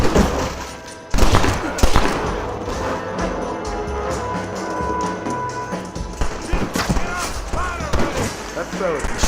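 Gunfire from a Red Dead Redemption shootout, a burst of loud shots at the start followed by repeated cracks and impacts, with voices talking over the noisy fight.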